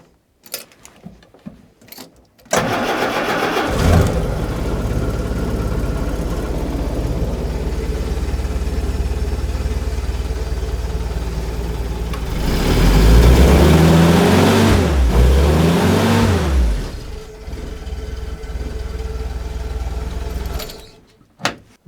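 A winter Jeep engine with a previously stuck starter motor turns over and catches, then runs steadily with no voices. It climbs into a louder, rising rev partway through before dropping back to a steady run.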